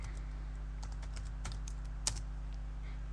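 Computer keyboard being typed on to enter a WorldEdit wand command in Minecraft, a quick run of soft, close key clicks over a low steady hum.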